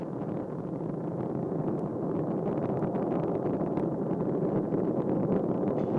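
Space Shuttle Discovery's main engines during launch on mission STS-128 from Kennedy Space Center, a loud, continuous broadband rumble heard from a distance, steady throughout without talk.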